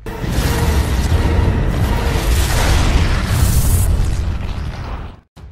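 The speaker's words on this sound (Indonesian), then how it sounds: "Kelly dan Jack ditarik dan kapal itu meledak dan membunuh semua kumpulan piranha yang berada di sana" A boat explodes in the film Piranha 3D, a loud, sustained roaring blast with rumbling debris and a hissing rush that runs for about five seconds before cutting off abruptly.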